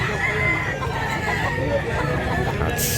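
A rooster at a fighting-cock market in Mantalungon, Cebu crows amid a dense crowd babble, with other fowl clucking nearby and voices throughout.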